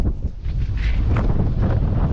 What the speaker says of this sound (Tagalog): lakas ng hangin habagat